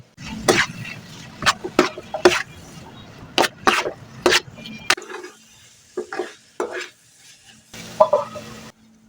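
Colombo fish curry being stirred in a pot with ginger paste, salt, chili, turmeric and coriander powders: irregular, close spoon scrapes and clunks that later fade to quieter stirring over a low hum.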